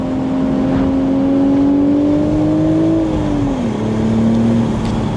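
A BMW Z4 M40i pulls hard on throttle, its engine tone climbing steadily and then dropping briefly as it shifts before settling into a steady drone, loud and close from inside the cabin with constant road noise.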